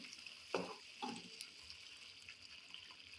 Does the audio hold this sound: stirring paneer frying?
yes